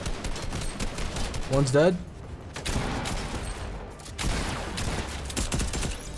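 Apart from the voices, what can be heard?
gunfire in Fortnite video game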